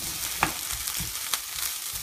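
Onions frying in a pan give a faint, steady sizzle with a couple of soft utensil taps, low in level and heard alone without speech.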